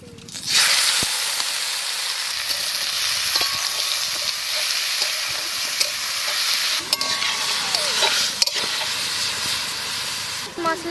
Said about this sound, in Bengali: এবার মাংস দিয়ে দেব